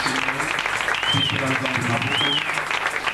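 A church congregation claps together through a worship service, a steady wash of applause filling the room, with voices and a faint high sung or whistled tone rising over the clapping.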